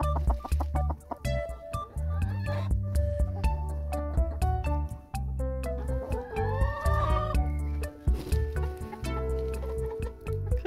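Young hens and older hens cluck and call close by in a sustained, busy run of bird sounds, with no talking over them.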